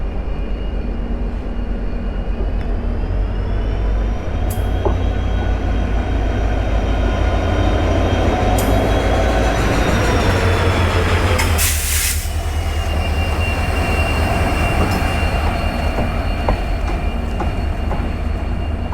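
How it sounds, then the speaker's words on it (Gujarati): A diesel locomotive on a desert railway in the Thar, between Jodhpur and Jaisalmer, rumbles steadily with a deep low-frequency engine drone and continuous rail noise, close and loud throughout, with a brief hiss burst midway. "અહીંયા ડીઝલ લોકો જ ચાલે છે"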